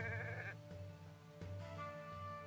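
A sheep bleats in Renowned Explorers, one wavering, nasal call at the start, followed by a quieter tonal game backdrop with faint bleat-like traces.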